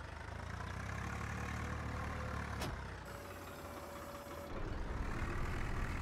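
Swaraj 744FE tractor engine in Farming Simulator 19, a steady low diesel drone that dips briefly with a short whining tone before running loud again, alone without talk.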